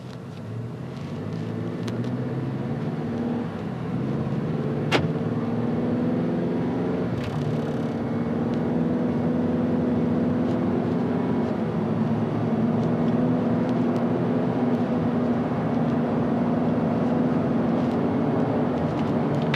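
Steady road noise from a 2021 Ford Bronco cruising at about 38 mph, a constant low engine hum and tire rumble that holds even throughout, with no talking.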